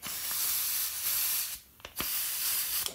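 Steady loud hiss of compressed air escaping from a Central Pneumatic air angle grinder on its shop air hose, briefly cutting out for a moment before resuming at full strength.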